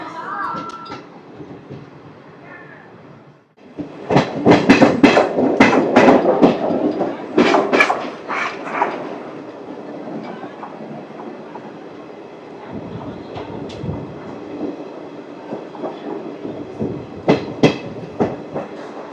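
Rayagada-Guntur Express train getting underway, heard from on board: a steady, loud rumble of wheels and carriage with rhythmic rail clatter that swells after a quieter start and carries on throughout, with a faint voice at times.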